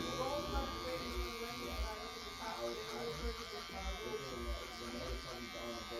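A Gamma Rebel hair clipper hums steadily at close range while cutting a fade with the guard on and the lever fully open, its buzz continuous under overlapping sounds with no break.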